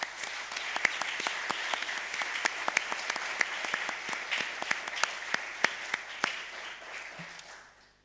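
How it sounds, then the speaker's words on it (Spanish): An audience in a lecture hall gives a steady round of applause. It is dense and fairly loud with a few sharp claps standing out, then tapers off at the end. "un fuerte aplauso."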